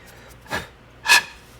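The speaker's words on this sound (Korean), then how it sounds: "조금 더 고운 사포로 이렇게 문질러 주시면 되고요" Fine sandpaper rubbed over a saxophone neck cork makes two short, dry rasping strokes, close and quiet, separated by a brief pause.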